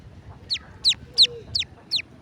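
Newly hatched lesser whistling ducklings found at a wetland give five clear, evenly spaced high chirps about every third of a second, close and distinct over a soft low background with no voices.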